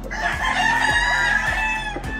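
A yellow-legged rooster from an Albany Kelso line crows once on a farm, one long, ringing, harmonic call held for about two seconds, close and clear.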